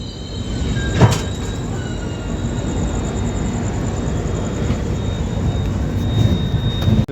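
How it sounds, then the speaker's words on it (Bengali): The Sampoorna Kranti Express rolls into a station in a loud, continuous low rumble and rattle with a brief sharp squeal near the start, heard close and steady, without speech. "ওদিক দিয়ে আরও একটা এক্সপ্রেস ঢুকছে"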